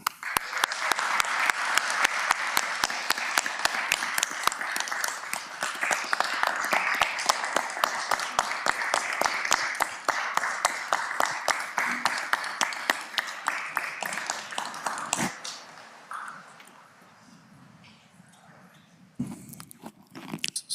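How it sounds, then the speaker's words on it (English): A crowd applauds steadily for about fifteen seconds at a school board meeting, dense clapping that fades out, followed by a few scattered claps in a quiet room. "On behalf of the board, we applaud you."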